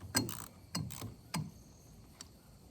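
A wrench loosens a 12mm bolt on a Suzuki, giving a few close, crisp metallic clicks and ratchet-like snaps in an uneven rhythm, fading to a faint last tick.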